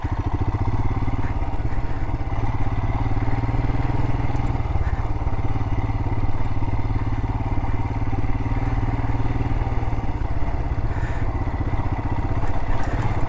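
A motorcycle engine runs steadily while the rider works up a rocky canyon jeep trail in the wrong gear, with a continuous loud drone and occasional clatter and thumps from the rough ground.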